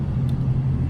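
A Toyota Tacoma A/C blower motor spins while powered straight from a jumper, giving off a steady, close, low droning hum with no other sound.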